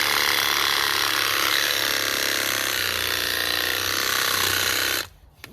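A saw with a short blade, around eight inches, cuts steadily through a tree trunk near ground level outdoors, a continuous loud grinding buzz lasting about five seconds before stopping abruptly.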